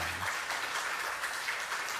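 Applause from a church congregation at a Sunday afternoon service, a steady even patter of many hands held at moderate level throughout, with a brief low hum at the start.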